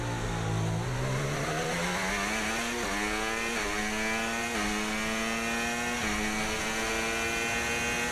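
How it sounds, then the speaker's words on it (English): Formula 1 car engine in the F1 25 racing game over-revving through downshifts, its buzzing whine stepping up in pitch with each quick gear change, loud and continuous with no voices. "it sounds like I'm over revving on the downshift because I don't have that 7th gear"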